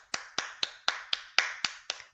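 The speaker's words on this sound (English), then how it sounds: "Hand clap." Hand claps, nine sharp evenly spaced claps about a quarter second apart, close and crisp with no voices.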